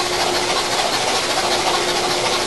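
A car engine idling at very slow RPM, a steady, even hum with a continuous low drone and no talk over it.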